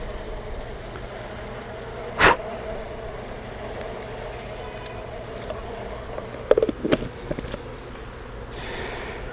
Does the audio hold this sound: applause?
no